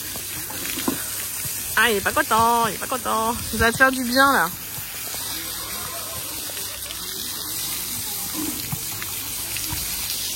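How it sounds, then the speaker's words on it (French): A dog gets a shower, with water spraying and hissing steadily throughout, while someone talks briefly to the dog over the spray early on. "Allez petite douche."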